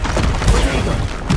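A Confringo blasting spell strikes in the Hogwarts Legacy video game, a loud, dense burst of crackling, rumbling noise that fills the brief moment and swells again at the end.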